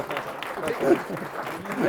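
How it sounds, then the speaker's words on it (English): Wedding ceremony guests applauding, a steady wash of clapping from a crowd with a voice speaking over it throughout. "I think a round of applause for our guys that did that."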